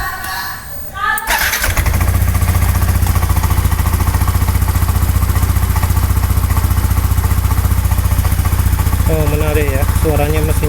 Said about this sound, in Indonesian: suaranya mesinnya jadi senyap ya, mungkin ini oli aditifnya emang banyak ya